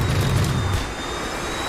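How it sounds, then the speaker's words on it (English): Aircraft cannon fire from an F-16 in the flight simulator DCS World: a short, heavy rumbling burst that fades into a steady loud roar of jet noise. "Cannon."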